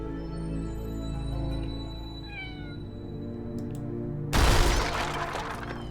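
Inside The Talos Principle, a short cat meow rises over a steady, low tonal drone and is followed by a sudden, bright crash of breaking glass that rings and trails off near the end.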